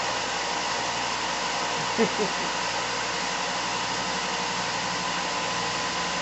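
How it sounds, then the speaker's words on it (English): A 2-inch belt sander runs continuously while texturing the epoxy resin handle of a camping knife, a steady broadband whir with a low motor hum, holding constant nearby apart from a brief bump of contact. "it's nice to have that 2-inch belt sander"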